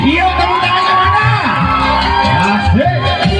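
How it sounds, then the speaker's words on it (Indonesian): An outdoor crowd at an Indonesian Independence Day night stage show cheers, whoops and shouts loudly for the performers in a dense, continuous burst. "Tepuk tangan yang meriah untuk para penampil."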